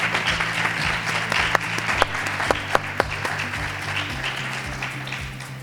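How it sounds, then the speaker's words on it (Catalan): An audience in a hall gives sustained applause at a Falles event, a dense, steady clatter of many hands with a few sharper claps standing out, fading slightly toward the end. "un aplaudiment, per favor, per este moment"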